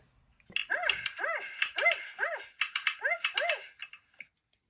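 A cartoon dog barks in a quick run of about eight yelping barks, close and bright, with no talking over it.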